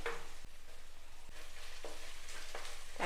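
Green chillies frying with onion and garlic paste for a Kerala fish curry, a soft, continuous close-up sizzle with occasional sharp spoon taps and scrapes against the pan, and no voices.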